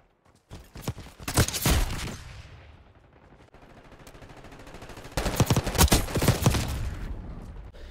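Bursts of rapid gunfire from the Black Ops 6 beta, two loud volleys of automatic shots separated by a quieter stretch, with crisp hit-marker clicks in the mix.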